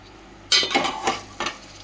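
A spoon scrapes and stirs about a kilo of chicken through gongura curry in a pan, giving a few close, separate scraping strokes with a soft sizzle underneath and nobody talking.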